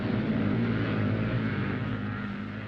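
Scrambling motorcycle engines roar loudly and continuously as riders climb the banks of an off-road course, a steady throbbing drone that fades slightly toward the end.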